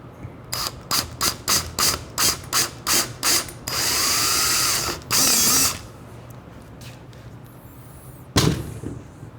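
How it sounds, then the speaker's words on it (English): A dozen quick ratcheting clicks tick in an even rhythm, then a power drill with a number 4 bit whirs loudly in two sustained bursts while customizing a 2023 Ducati Scrambler, followed by a short clatter. "Turns out the stock size is actually a number 4 drill, or you can use a 7/32."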